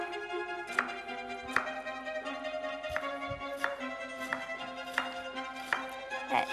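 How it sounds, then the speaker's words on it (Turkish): A knife taps sharply on a cutting board chopping onion in a slow, steady rhythm, about one chop per second, over a faint background hum. "Yemeklik doğruyoruz soğanımızı."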